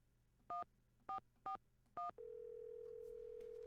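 Four short two-tone telephone keypad beeps in an evenly spaced run, then a steady continuous dial or ringing tone from a phone call placed in a Nancy Drew video game, clean and close with no talk.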